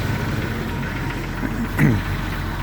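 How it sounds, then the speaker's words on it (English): A Jeep Wrangler TJ engine idles in a steady low rumble close by, with a brief rise in the middle as a faint voice-like sound passes over it. "Engine running."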